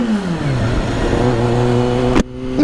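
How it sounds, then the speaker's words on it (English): A Kawasaki Ninja motorcycle engine revs in first gear, its pitch climbing steadily and loudly up close, then dropping sharply as the throttle is released and settling back into a lower steady note. "I'm listening for the engine revs"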